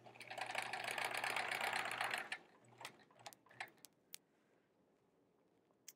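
A sewing machine stitching through many thick layers of quilt fabric, a loud continuous whirring run for about two seconds, then stopping, followed by scattered clicks and small mechanical knocks.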